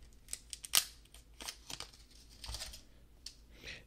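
A new Apple Pencil being unwrapped from its packaging, heard as close, crisp crinkles, snips and tears of plastic and paper in irregular bursts, with a sharp snap near the start and no talking.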